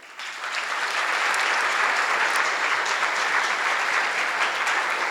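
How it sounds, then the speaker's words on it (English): Sustained applause from a large gala-dinner audience greeting a choir, dense and even clapping that swells in at the start and holds steady and loud throughout with no talk over it. "A round of applause, please, for them."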